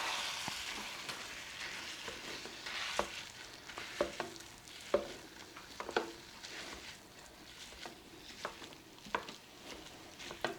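Hamburger meat browning in a hot pan, a steady close sizzle and spatter broken by scraping stirs and soft clacks of a utensil against the pan, with no talking.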